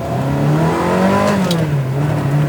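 A Ferrari 360 engine revs loudly and close, rising and dipping in pitch as the throttle lifts between gear shifts, with a brief mechanical click near the middle.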